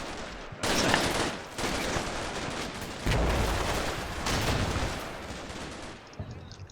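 Bursts of gunfire from the Combat Mission Shock Force 2 war game, several sustained volleys and fusillades layered into near-continuous firing, loud and close, trailing off at the end.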